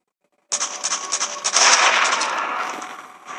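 Sniper rifle shot in the mobile shooting game Sniper 3D: one sudden loud blast, followed by a dense, sustained rumbling echo that fades slowly over about three seconds.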